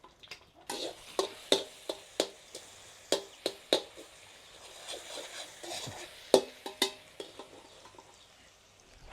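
Pork stir-fried in a pan at an evening cooking session, a metal utensil scraping and clacking in a steady series of sharp strokes over a soft sizzle, close and alone with no talk.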